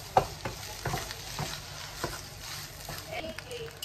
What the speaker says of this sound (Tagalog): Then, sute ko lang po ito ng onti hanggang medyo maluto siya.